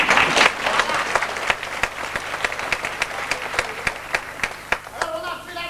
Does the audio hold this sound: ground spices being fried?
no